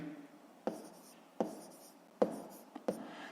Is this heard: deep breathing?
no